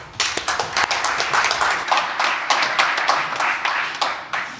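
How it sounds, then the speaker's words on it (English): An audience at a festival talk claps for the next speaker, a few scattered claps at first building into steady, moderately loud applause from a modest crowd. "a round of applause for Elnar."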